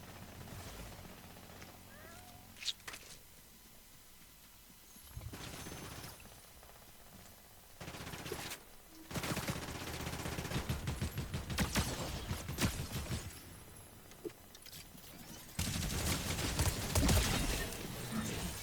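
A minigun in a video game fires in long, dense, roaring bursts that come and go, separated by quieter stretches of softer game noise at a fairly low overall level.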